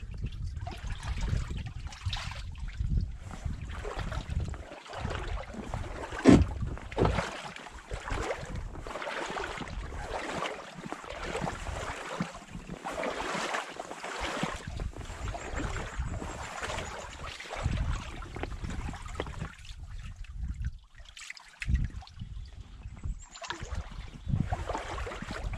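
Kayak paddling along a rocky shoreline near Rockport, with steady water sloshing and dripping from the paddle and hull, gentle irregular splashes close by and no talking.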